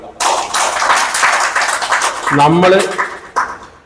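A large crowd claps in a hall during a DXN gathering in Vatakara: a dense burst of applause that starts abruptly, runs for a few seconds with a voice briefly sounding over it, then fades.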